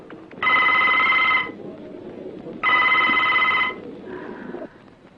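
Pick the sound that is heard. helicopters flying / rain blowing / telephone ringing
telephone ringing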